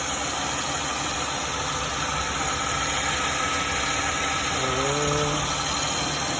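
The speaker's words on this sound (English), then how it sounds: "Engine is now running good." A 2004 Mazda Tribute V6 idles steadily after an exhaust manifold repair, a continuous close engine hum with a faint tonal whine near the end and no talk.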